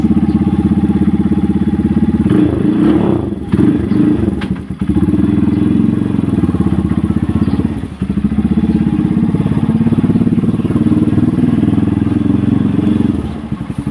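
A motorcycle engine runs steadily throughout at close range, with a loud continuous low drone and a few brief clattering thumps early on.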